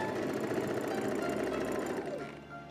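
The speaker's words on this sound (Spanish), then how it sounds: "Aquí voy cosiendo al ancho pie de máquina" A sewing machine stitches lingerie fabric with a fast, even mechanical chatter, running close and continuous before slowing to a stop near the end.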